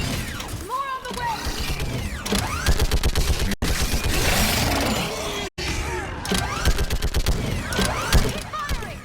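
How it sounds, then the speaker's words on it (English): Rapid gunfire from Mass Effect Legendary Edition on Insanity difficulty rattles in dense bursts with shattering impacts and mechanical clatter, loud and close, while voices shout over the fighting. "Keep firing!"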